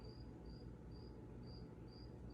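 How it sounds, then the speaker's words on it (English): A single cricket in a garage chirps in short, evenly spaced bursts, about two a second, over a low background hum, with no voices. "So we have 3 cats and a chirping cricket in the garage."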